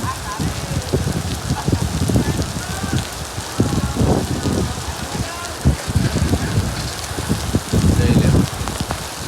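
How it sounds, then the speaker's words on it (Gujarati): Sudden heavy rain falling at night, a steady dense patter with louder bursts of drops striking nearby surfaces, continuous and close throughout with no talk. "અચાનક વરસાદ પડવા માંડ્યો"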